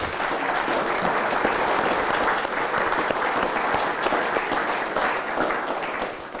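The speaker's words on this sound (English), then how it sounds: "Let's give them another round of applause." An audience applauds warmly after a readers theatre performance at a museum night event, a steady, full round of clapping lasting several seconds with a few voices mixed in.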